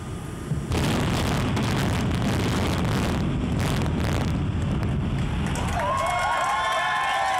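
An explosive demolition brings down the Hilton Hotel with a sudden heavy blast that becomes a long, loud, wind-buffeted roaring rumble, fading into a thinner wash with faint whistling tones near the end.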